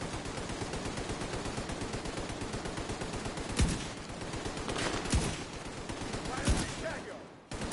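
Rapid automatic gunfire in a Division 2 co-op firefight, a dense continuous rattle of shots with a few louder single cracks standing out, loud and close throughout with voices talking over it.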